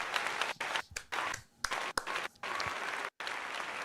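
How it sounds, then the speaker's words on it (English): Canned applause fired from a stream deck during a live Philadelphia 76ers vs. Washington Wizards play-by-play stream: a short burst of dense clapping with a few brief dropouts, steady and fairly loud, with no talking over it. "let's give you a round of applause."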